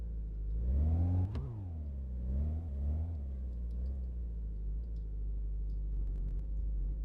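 A truck engine in the video game My Garage, idling and revving as the vehicle pulls into a garage: a steady low rumble that rises and falls through several throttle swells, close and continuous, with no talk.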